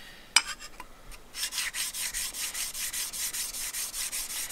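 Steel blade of a WoodRiver No. 5 1/2 jack plane being sharpened to raise a burr, a few scattered scrapes first, then a steady run of rhythmic rasping strokes, close and fairly quiet, with no talking.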